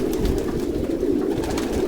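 Pigeons in a loft coo steadily with low, soft, continuous murmuring close by, several birds blending into one warbling drone.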